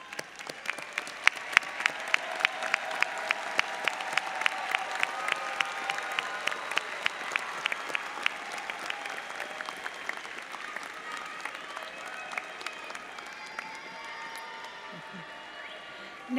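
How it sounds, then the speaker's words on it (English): Sustained applause from a large graduation commencement crowd fills the hall, dense and steady for most of the stretch before slowly thinning out, with murmured voices underneath. "join me in applauding all those who helped you earn your degree"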